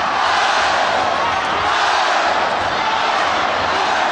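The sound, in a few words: crowd cheering at Muay Thai fight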